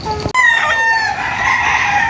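Chickens at a Filipino poultry yard crow loudly, a rooster's drawn-out call carrying over steady clucking from the flock, close and continuous after a brief cut at the start.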